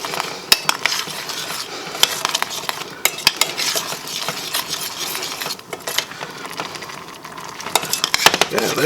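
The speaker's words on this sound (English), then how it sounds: "I'm going to give it one last little stir here." Spoon scraping and clinking in a pot of boiling canned corn with garlic, irregular metallic taps over a steady bubbling hiss, close and moderately loud.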